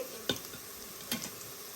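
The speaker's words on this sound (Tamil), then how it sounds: "இப்போ நல்லா இது வதங்கணும். ஆனியன் நல்லா ஃப்ரை ஆயிடுச்சு." Onions sauté in an Instant Pot for mutton biryani, a faint, steady sizzle broken by two quick stirring clinks of a spoon against the pot, heard close and alone.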